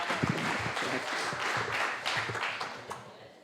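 Audience at a hackathon competition in Prague clapping for a team, a dense continuous patter of applause with distinct individual claps standing out, close and fairly loud.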